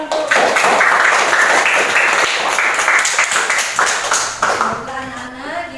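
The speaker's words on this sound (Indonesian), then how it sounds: "Beri tepuk tangan untuk" Classroom of schoolchildren clapping together after a lesson on faith in angels, a dense burst of hand claps that fills the room and then trails off near the end as a voice begins.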